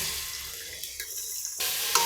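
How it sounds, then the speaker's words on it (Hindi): Sliced bitter gourd dropped into hot oil in a pressure cooker, a soft hiss that breaks off and then settles into a steady close sizzle. "तेल गर्म होने पर हम इसमें अपने करेले डाल देंगे।"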